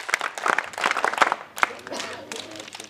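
A crowd gathered for a scout and guide event at a college in Semri gives welcoming applause, a short, fairly loud patter of many hands that fades, mixed with someone speaking.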